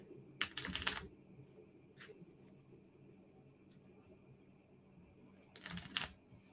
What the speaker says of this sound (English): Let's shuffle it up.